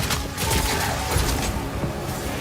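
Explosive crossbow shot detonating a poison cloud in Path of Exile 2, a dense, continuous burst of loud blasts and crackling impacts layered over one another.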